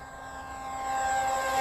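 A radio-controlled Eurofighter model jet flies at about 60% throttle with a steady whine that grows slowly louder as it nears overhead. It sounds alone, with no voices.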